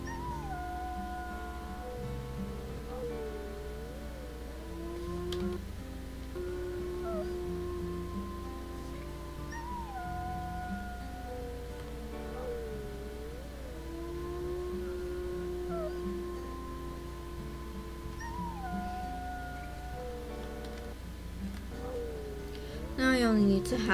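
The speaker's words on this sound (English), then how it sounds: "Now he only needs to howl one more time." A wolf in the WolfQuest video game gives several long, wavering howls that rise and fall in pitch, repeating through a steady ambient backdrop with faint game sounds.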